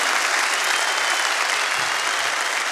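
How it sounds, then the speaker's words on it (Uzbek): Audience at a concert applauding, dense sustained clapping from a large crowd, loud and even from start to finish with no talk over it. "Otalarga bitta qarsak chalib qo'yinglar."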